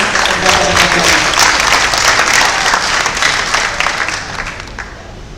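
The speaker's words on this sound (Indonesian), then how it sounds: "Mungkin tepuk tangan" A crowd at a Universitas Udayana student demonstration over waste handling in Bali gives loud, dense applause, many hands clapping close by, gradually thinning and fading toward the end.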